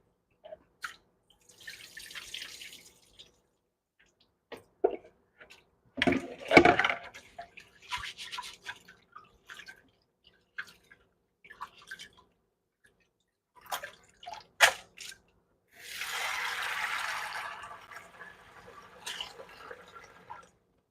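Rice is washed in warm water with scattered drips, splashes and swishing in a bowl, quiet and intermittent, ending in a longer rush of pouring water.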